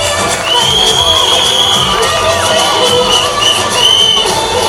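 A crowd of parents at a school annual day function cheers and whistles for a children's performance, a steady, loud wash of shouts, whoops and whistles that continues throughout.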